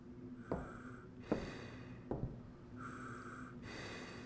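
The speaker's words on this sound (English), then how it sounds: "The breathing's getting louder." Heavy, ragged breaths and sharp snorting gasps repeat in a horror video game, several distinct inhales and exhales spaced through a quiet, eerie background.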